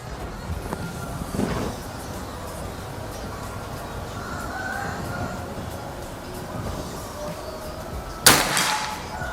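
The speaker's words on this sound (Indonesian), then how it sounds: "Langsung saja kita lanjut ke tembakan yang ketiga." A single sharp crack from a Bocap Escobar PCP air rifle firing during an accuracy test, a sudden loud shot near the end after steady quiet background noise.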